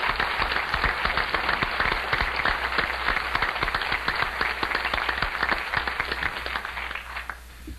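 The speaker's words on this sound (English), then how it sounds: "let's give them a round of applause" Guests at a John Birch Society council dinner applaud warmly, a dense, sustained patter of many hands clapping that holds steady before tapering slightly at the end.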